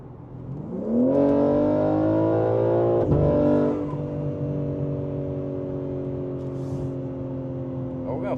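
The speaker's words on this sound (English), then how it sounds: "so we can hear some of that rumble." BMW M3 G80 with a downpipe in sport mode, its engine rumble rising as revs climb, then settling into a steady loud drone with a brief surge midway; no one speaks.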